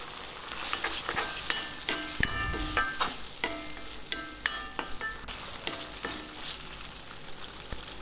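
A thick ground masala paste for karuveppilai kulambu sizzles in a hot pan while a spoon scrapes and stirs at irregular intervals, close and fairly quiet.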